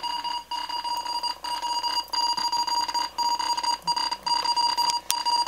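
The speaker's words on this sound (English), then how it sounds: "It's currently decoding Morse at 80 words a minute." Fast Morse code at 80 words a minute plays as a single steady tone keyed in rapid dots and dashes, a continuous stream of clipped beeps with tiny gaps, clear and alone.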